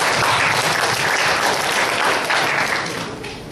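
An audience claps together in a dense, continuous wash of applause that holds steady, then softens slightly toward the end.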